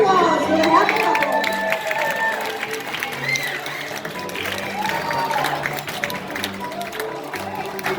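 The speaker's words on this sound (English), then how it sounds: "give a round of applause for the happy couple" Wedding guests at a reception applaud the happy couple, a steady wash of clapping mixed with crowd chatter and murmuring voices lasting throughout, moderately loud and close.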